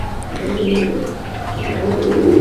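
Fancy pigeons coo steadily close by, the low rolling calls overlapping continuously with faint background noise and no speech.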